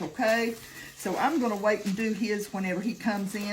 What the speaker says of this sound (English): I'm frying some potatoes to go with it.